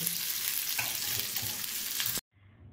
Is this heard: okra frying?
yes